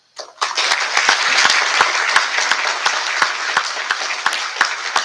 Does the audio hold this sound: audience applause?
yes